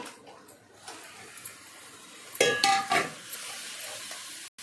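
Chicken hits a hot pan and is stirred for a gravy, a soft hiss that rises into a brief burst of sizzling and scraping midway, then settles, close by.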